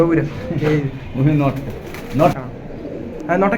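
Pigeons at a pigeon sale coo in repeated rolling calls, close and fairly loud, mixed in with people talking nearby.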